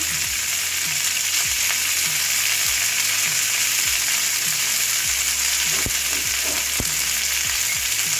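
Pea filling for khasta kachori sizzles steadily in a pan over medium heat while a spatula stirs it, scraping and knocking the metal in irregular strokes under the loud constant frying hiss, no talking.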